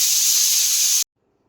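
A pressure cooker whistles while semolina (soji) upma cooks: a loud, steady high-pitched steam hiss for about a second, then cuts off abruptly into near silence.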